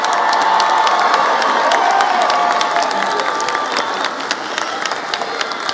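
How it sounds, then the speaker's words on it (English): Graduating students at a South Mountain Community College commencement burst into sustained applause and cheering, a dense crowd roar with claps and whoops that holds steady before easing slightly. "stand and give yourself a round of applause"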